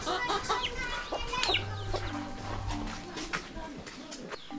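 Chickens clucking in a village courtyard in a Himalayan valley on the China-Nepal border, a busy run of short clucks and calls close by, with a low steady hum underneath.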